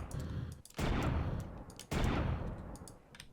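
Two sharp shots from the hunter's handgun in a modded Minecraft game, each a loud crack with a short decaying tail, spaced about a second apart with small clicks between.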